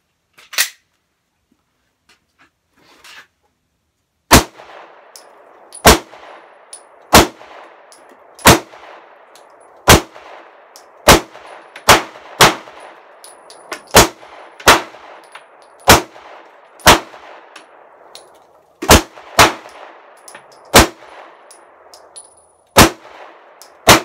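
A Smith & Wesson M&P 9mm pistol fires Federal 124 grain jacketed hollow points outdoors: around twenty sharp, loud shots at an uneven steady pace, each trailed by a fading echo, with a faint metallic ring between them.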